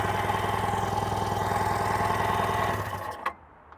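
A twin-carb jet ski engine that has sat unused for a while cranks and sputters with a steady buzzing drone, then dies away abruptly near the end, fairly close and with no talking.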